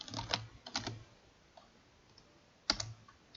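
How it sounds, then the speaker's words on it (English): Typing on a computer keyboard during a JavaScript coding session: a few quick bursts of clicky keystrokes, a pause, then another short burst, close and fairly quiet. "So let's type user dot"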